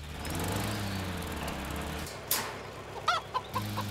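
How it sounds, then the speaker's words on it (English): A chicken in a King of the Hill cartoon scene clucks in a few sharp, close bursts near the end, after a steady engine-like hum. "Octavio, release the chicken."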